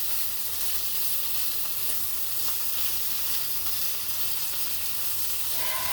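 Bacon frying in a big skillet for brunch gives a steady, dense sizzle and hiss that fills the whole stretch, close and even, with no one talking.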